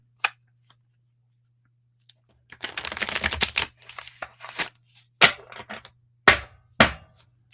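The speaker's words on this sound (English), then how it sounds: "I'm going to shuffle up for you." Deck of playing cards being shuffled at a table, a burst of riffling followed by several short, crisp snaps and taps. Each sound is close and clean against a quiet background.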